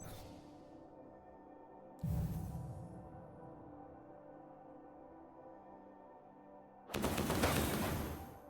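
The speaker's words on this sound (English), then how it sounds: "Look at them pretty fireworks." Fireworks in the video game Destiny give two separate bursts: a sharp crackling boom partway through, then a louder, denser crackle near the end, with quiet stretches between them and no talking.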